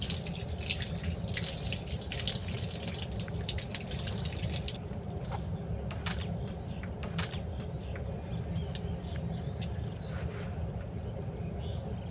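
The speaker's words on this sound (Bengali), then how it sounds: "অবশ্যই মাছটা খুব ভালোভাবে পরিষ্কার করে ধুতে হবে।" Fresh freshwater fish being washed by hand under running tap water in a sink, a steady close splash and trickle with drips, louder in the first few seconds and then a softer flow; no talking.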